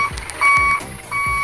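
A truck reversing alarm in the Truck Simulator Indonesia game: three loud, close electronic beeps at an even pace, each with a low thump, alone without talk.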